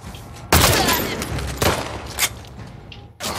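Gunfire in The Last Of Us Part II video game: a loud close shot with a long rumbling decay, followed by a second blast, a smaller pop and another report near the end.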